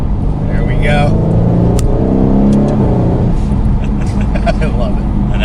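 A 2021 Aston Martin Vantage Roadster in track mode revs its engine loudly and close by, the note climbing and falling over a heavy low rumble, with a person talking over it.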